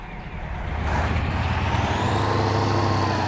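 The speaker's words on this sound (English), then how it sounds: "Oh, parking brake." A truck's parking brake lets out a hiss in Spintires as the heavy engine rumbles on steadily underneath, loud and close, the hiss starting partway in and holding over the idling truck.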